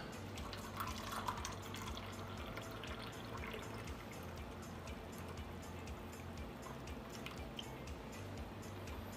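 Green tea trickles and splashes steadily into small glasses, a soft continuous pour with faint dripping, close by and quiet, no talking.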